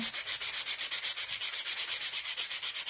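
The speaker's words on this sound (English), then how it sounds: "I'm going to sand this just a little" Sandpaper rubs back and forth on a wooden part of a standing snowman Christmas countdown decoration, a steady rhythmic scratching of about sixteen even strokes, close and alone.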